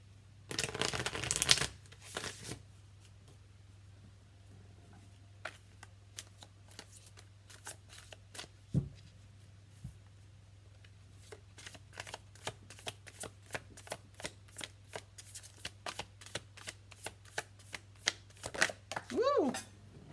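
A deck of Modern Love Tarot cards is shuffled by hand in quick, crisp riffles and taps, close and repeated in bursts over a low steady hum, with a brief voice near the end.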